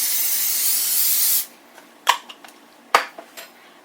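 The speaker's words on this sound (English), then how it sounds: "I'm going to spray it with some vegetable oil." Vegetable oil cooking spray shoots from a can onto cut zucchini in one loud, steady burst of about a second and a half, followed by a few sharp clinks of pans or utensils.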